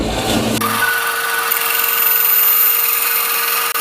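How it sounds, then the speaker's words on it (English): A power tool cuts through a wooden dowel held in pliers, starting with a rough grinding bite and then settling into a loud, steady whine that runs close and uninterrupted to the end. "I'll be holding this dowel with these pliers and cut this in half"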